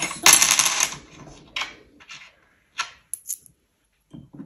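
Five-cent coins clink and rattle as they are handled, a loud jingling burst at first followed by a few scattered light clicks and taps with quiet gaps between.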